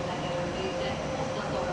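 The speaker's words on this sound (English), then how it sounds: "I think this might be the Székesfehérvár train." A train moving through Budapest Keleti or Kelenföld station gives a steady, continuous rumble with faint tonal hums, heard at moderate distance throughout.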